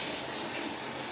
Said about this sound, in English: So now I'm filling up the tub